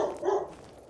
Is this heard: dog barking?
yes